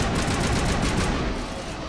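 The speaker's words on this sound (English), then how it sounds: "The gunfire is just so loud in comparison to everything else." Rapid automatic gunfire bursts in dense, loud volleys from Mass Effect combat, continuous and close for the whole stretch.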